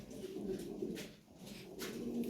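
Lahori pigeons cooing softly in a loft, several low rolling coos repeating over a couple of seconds against a faint background hum.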